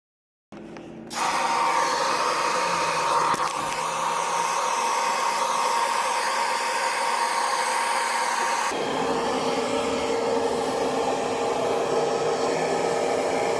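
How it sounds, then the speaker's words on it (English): Homemade 500 watt low-voltage electric heater with a blowing fan, a steady, close whooshing whir that kicks in abruptly and changes pitch slightly partway through. "500 watt heater, and then I assemble them together with a blowing fan"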